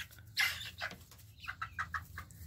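A young rooster on a farm gives a few short, faint clucks and squawks in quick succession, close by against a quiet outdoor background.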